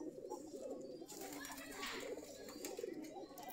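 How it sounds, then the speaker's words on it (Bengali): Several pigeons coo steadily and close by in a loft, their low burbling calls overlapping throughout with no clear pauses. "মোটামুটি অনেকগুলো কবুতর আছে।"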